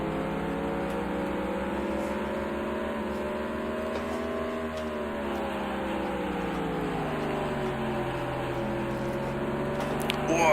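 The engine of the number 28 Texaco Havoline NASCAR race car in a NASCAR video game holds a steady, loud, droning high-rev tone, shifting pitch slightly as it dips and climbs again, with no talking over it.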